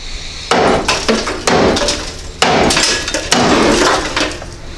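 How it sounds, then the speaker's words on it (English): A hammer strikes hard on the top ball joint of a lifted Honda Civic: four loud, sharp metallic blows, each followed by a short ringing decay, with no talking. "So we're just gonna rip that top ball joint apart, and that should give us enough room to slide the axles out."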